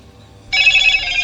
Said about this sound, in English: My phone sounds like it's under the water right now